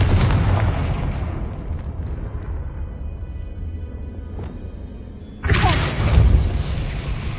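A Confringo blasting curse detonates in a Harry Potter game, a loud booming explosion with a long rumbling decay, followed by a second sudden heavy blast near the end.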